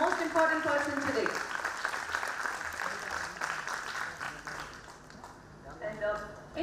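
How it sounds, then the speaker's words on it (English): Audience applause at a Bharatanatyam arangetram honors the dancer's guru, a moderate wash of clapping under a voice speaking at the start and end, fading slightly in the middle. "Can we have a huge round of applause for Radhika's guru"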